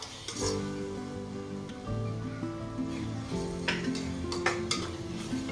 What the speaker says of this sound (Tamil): நல்லா மிக்ஸ் பண்ணி விட்டுறோம்